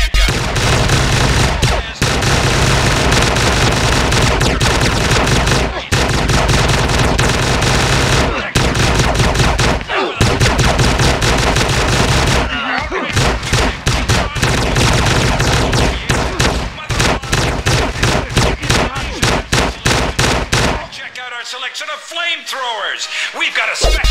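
Rapid handgun gunfire from GTA San Andreas, loud and sustained bursts of shots running almost nonstop with brief gaps, ending in a short quieter tail.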